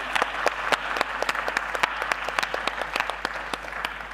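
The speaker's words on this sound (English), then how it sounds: "Big round of applause for you." Applause from an audience at a school design-thinking challenge event, a steady patter of many hands clapping at moderate volume, continuous throughout with no voices.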